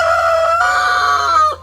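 Wendigo the rooster lets out a second close, loud crow. It begins on a strained note, rises into a long held cry and breaks off abruptly near the end, with no speech during it.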